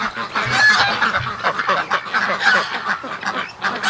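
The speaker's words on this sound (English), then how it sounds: "the geese are all over there" A flock of geese honks loudly and continuously nearby, overlapping calls filling the whole stretch on an outdoor farm morning among hatching ducks and Muscovies.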